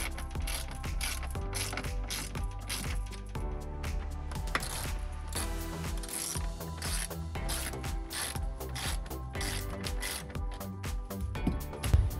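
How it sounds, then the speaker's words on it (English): Screws are driven into the plastic enclosure of a JL Audio Stealthbox subwoofer inside a Jeep Wrangler JL 4-door, producing a continuous mechanical ratcheting whir with rapid clicking over a steady low hum, close and moderately loud. "Make sure not to over tighten these screws because you will crack the plastic."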